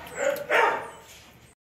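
A dog barks twice in quick succession at moderate distance, sharp and fairly loud, with the second bark tailing off into a short whine.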